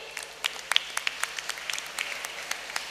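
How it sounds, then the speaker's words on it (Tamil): Audience applause at a school annual day debate event, a steady patter of many hands clapping with sharp individual claps standing out, moderately loud and continuous for a few seconds. "அவங்களுக்கு ஒரு கைத்தட்டல் கொடுத்துடலாமே."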